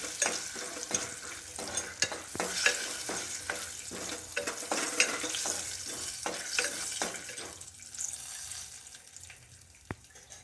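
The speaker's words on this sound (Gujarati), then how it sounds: "પછી આને થોડી વાર માટે આ રીતે હલાવી લેવાનું" Moong beans with turmeric and salt being stirred in a pan, a steady scraping and rattling of the spoon over soft frying noise, close and fairly loud, fading quieter near the end with one sharp tap.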